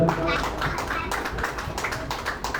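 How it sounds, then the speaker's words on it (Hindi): Audience clapping at a press club conference in a city hall, uneven and fairly close with distinct hand claps and taps, and a voice briefly mixed in. "अब ये तालियां बजा सकते हैं जोरदार।"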